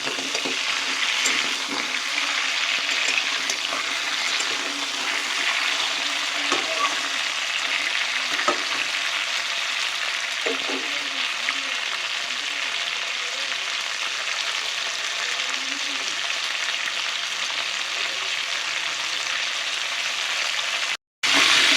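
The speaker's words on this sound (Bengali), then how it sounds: "কাঁকড়াগুলো আমার ভাজা হয়ে গেছে, আমি তুলে নেবো এবার।" Steady, crackling sizzle of crabs frying in hot oil, with occasional stirring clicks, continuous throughout and ending in a brief cut.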